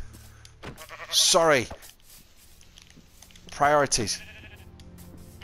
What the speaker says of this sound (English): there's a friggin' sheep